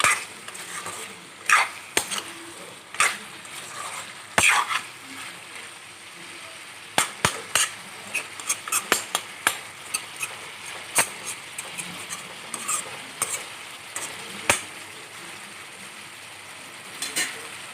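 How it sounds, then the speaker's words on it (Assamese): Fried potato pieces are stirred in a pan, with repeated metallic clinks and scrapes of the utensil over a steady sizzling hiss, close and continuous with no talking. "ভালদৰে সকলোখিনি লৰাই এনেদৰে অলপ সময় ভাজি ল'ম।"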